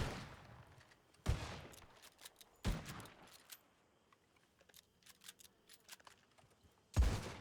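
Suppressive gunfire in a roleplay shooter game, a few sharp, loud isolated shots spaced seconds apart, with scattered fainter pops and clicks between them in a quiet setting.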